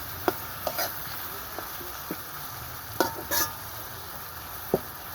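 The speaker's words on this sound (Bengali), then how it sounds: "এখন আমি এটাকে ভালো করে নেড়ে তেলের সাথে ভেজে নিব" Tomato and green chilies frying in oil in a pan while being stirred, a low steady sizzle broken by scattered sharp scrapes and clinks of the spoon against the pan, with no voices.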